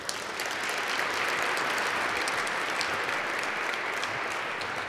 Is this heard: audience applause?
yes